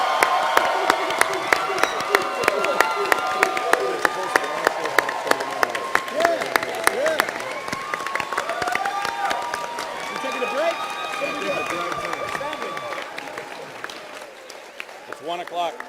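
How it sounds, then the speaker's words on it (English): Audience applause and cheering at a comic con panel, dense clapping with crowd voices and whoops running throughout, loud and sustained before slowly thinning toward the end. "Folks, big round of applause for these guys."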